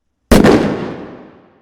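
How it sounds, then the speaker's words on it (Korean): A single sharp gunshot cracks out of silence, loud and close, then fades through a long reverberant tail lasting over a second. "갑자기 울리는 총성."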